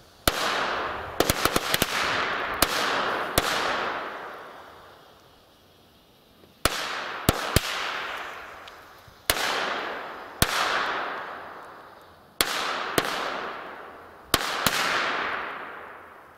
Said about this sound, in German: Und wir liefern gleich eine nach mit B-Böllern.